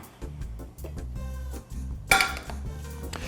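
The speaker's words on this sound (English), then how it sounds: "I'll set my pan down." A pan set down on a kitchen surface while cooking low-sodium pasta with shrimp, giving one bright metallic clunk and clink near the end, over a low steady background hum.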